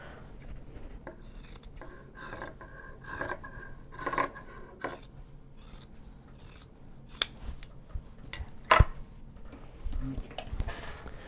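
Scissors trimming Japanese fabric for card holders: a run of close, crisp snips and rasping cuts at an uneven pace, with a couple of sharper clicks near the end, fairly quiet and without talk.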